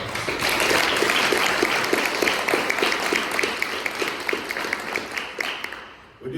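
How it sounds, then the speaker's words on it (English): An audience at a press conference gives a round of applause, a moderate crowd of steady overlapping claps with individual hand strikes audible, tapering off toward the end. "I think he needs a round of applause"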